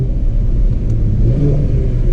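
A Mercedes CLS53 AMG straight-six engine revs in a loud, close, sustained deep rumble, steady throughout with no voices.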